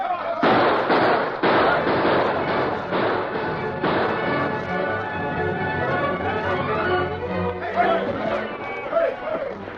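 Gunfire rings out in an ambush on wagons: a loud, dense barrage of shots and blasts, heaviest at the start, mixed with shouting voices throughout.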